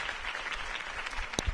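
Crowd applause after Harvey Dent's campaign speech in the Telltale Batman video game, a brief steady patter of clapping at moderate distance, ending with a short electronic tone and thump.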